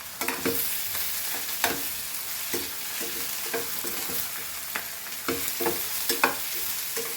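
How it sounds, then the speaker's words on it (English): Onions and bimli sizzle and fry in a pan for a Goan taro root dish, with steady crackling broken by repeated scraping stirs of a spatula, close and alone with no talk. "So the onions are nicely fried, like it is turned to now light color"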